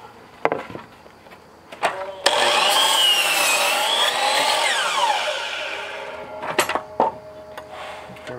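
A power saw cutting a 19 degree bevel in wood: a few short taps and knocks, then a loud, sustained whining cut of about four seconds, followed by more knocks.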